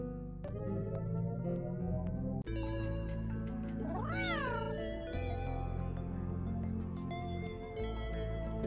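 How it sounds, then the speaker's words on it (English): A robot cat gives a long rising and falling meow in the Home A Drone VR game, loud and clear over continuous game music. "Did it just meow?"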